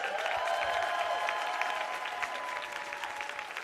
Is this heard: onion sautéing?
no